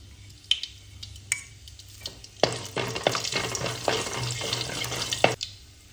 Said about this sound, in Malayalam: ഇതിലേക്ക് ഞാൻ കുറച്ച് ഓയിൽ ഒഴിച്ചിട്ടുണ്ട് അതിലേക്ക് കുരുമുളക് പട്ട ഗ്രാമ്പു ഏലക്ക ചെറിയ ജീരകം